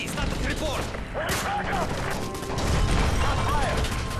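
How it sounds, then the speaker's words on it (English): Hijackers' gunfire aboard a plane in the game Call of Duty: Modern Warfare 3, rapid shots and clatter under shouted voices and chaotic commotion throughout. "That's gunfire! Hijackers are taking the plane!"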